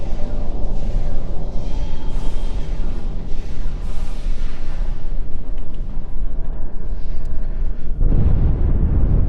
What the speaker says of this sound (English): That was an explosion of sufficient magnitude to cause a breach.